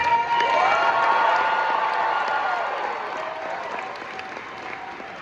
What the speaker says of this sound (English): one more big round of applause for the cast of the movie!